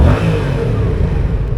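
A Yamaha XSR700 motorcycle engine revs hard and close, a loud deep rumbling roar that holds steady through the short stretch.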